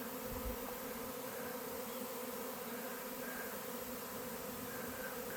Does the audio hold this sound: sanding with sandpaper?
no